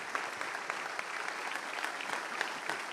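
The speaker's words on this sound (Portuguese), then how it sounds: "Vamos aplaudir o nome de Jesus." A church congregation applauds in a steady, dense wash of clapping from many hands, moderately loud and even throughout, with no talk over it.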